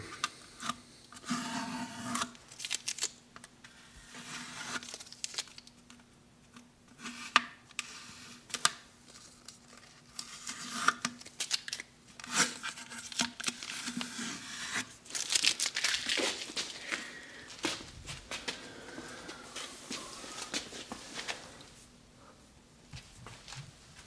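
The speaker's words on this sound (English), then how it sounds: "All right, up comes the tape." Adhesive tape being peeled up off an acoustic guitar bridge during a build, making crinkling, tearing and rubbing noises in irregular bursts across the whole stretch, close and fairly quiet, with no talking.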